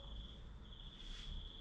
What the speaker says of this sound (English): Hearing the birds, the crickets going off.